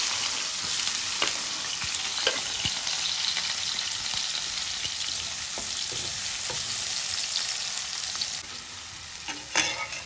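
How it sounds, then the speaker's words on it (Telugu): Finely cut green chillies and onion pieces fry in hot oil with a constant, dense crackling sizzle, broken by scattered taps and scrapes of a stirring spoon; close and continuous throughout. "అదే ఆయిల్లో సన్నగా కట్ చేసిన పచ్చిమిర్చి, ఉల్లిపాయ ముక్కలు వేసుకుని వేసుకోవాలి"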